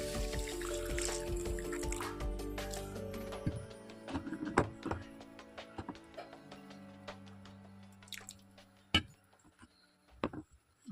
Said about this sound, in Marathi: आपण आता त्याच्यात पाणी घालूया आणि भिजत ठेवूया.